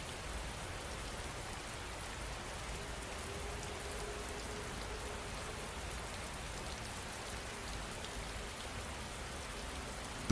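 Steady rain falls without pause, a dense, even patter of drops on surfaces that stays uniform and moderately loud throughout, with no voices.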